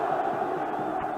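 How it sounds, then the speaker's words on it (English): Large football stadium crowd at a European Champions Cup quarter-final in Bucharest chanting and cheering together in rhythmic unison, a dense distant roar filling the brief moment. "there's almost a military unison about the cheering as well"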